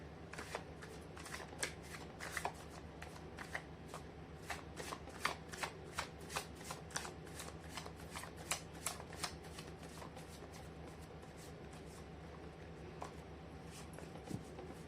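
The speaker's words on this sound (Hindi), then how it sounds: "मैं कर लेती हूँ कार्ड की शफलिंग।" Tarot cards are shuffled by hand in steady, soft riffling bursts with crisp repeated flicks that keep going for the whole stretch, close and quiet, with no voice over them.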